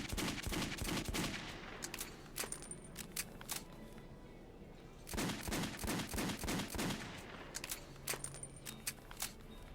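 Gunfire in the video game Metro 2033, a dense burst of rapid shots up front, then scattered single cracks, a second rapid burst midway and sparse shots at the end, with no talking.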